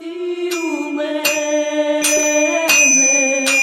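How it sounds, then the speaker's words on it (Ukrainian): Melodic bell chimes ring out at a working forge in a sequence of clear, sustained tones, each struck note overlapping the last, loud and close. "Мелодійний передзвін запрошує нас завітати до діючої кузні."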